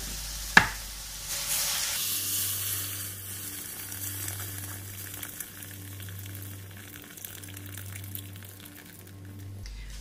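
Water is poured into a pot of fried vegetables and potatoes, with a sharp splash and hiss at the start that settles into steady close sizzling and bubbling, under a low kitchen hum.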